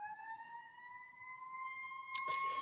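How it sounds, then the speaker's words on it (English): A faint, distant ambulance siren from a nearby station holds a steady wavering tone in the background, with a brief sharp noise near the end. "Forgive me if you hear sirens."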